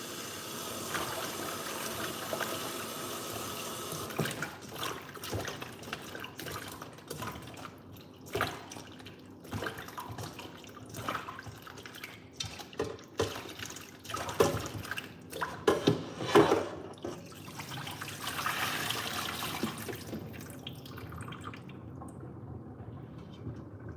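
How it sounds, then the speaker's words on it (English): Mushrooms being rinsed under running kitchen tap water, a long spell of steady close splashing and trickling broken by irregular drips and clatter, with the flow ending near the close. "I know it's not the best idea to rinse mushrooms because they get a little wet and soggy"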